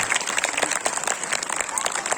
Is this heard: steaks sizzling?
no